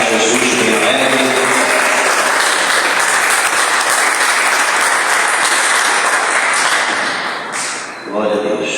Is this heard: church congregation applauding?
yes